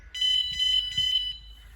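A Vanguardian car alarm system arming, giving a high electronic tone that pulses three or four times over about a second, close and clear, followed by a brief low thud.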